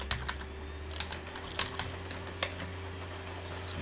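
Password typed on a computer keyboard during a vSphere Hypervisor login, a few quiet, close, irregular key clicks over a faint steady hum.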